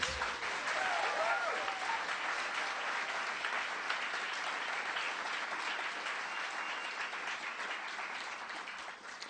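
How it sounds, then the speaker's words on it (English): Sustained audience applause at a traditional music festival, a dense wash of many hands clapping that holds steady throughout and eases off slightly toward the end. "You give them a round of applause, please."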